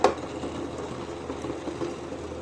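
Tea bubbling vigorously in a pot on a home stove, a continuous close rolling boil with soft irregular gurgles and no voices.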